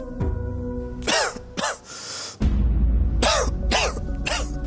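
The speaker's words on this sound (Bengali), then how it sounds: "এই দেখো, দেখেছো বৃষ্টিতে ভিজে সর্দি কাশি হয়েছে।" A person with a cold after getting soaked in rain coughs several times in close, harsh bursts, with throat clearing between them and short pauses.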